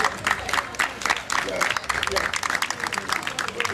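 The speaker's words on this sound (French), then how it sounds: "Et on applaudit très fort pour tout le monde et pour Bébéli aussi." Crowd applause at a gathering in Nkongsamba, a busy patter of clapping mixed with voices and cheering, fairly loud and continuous.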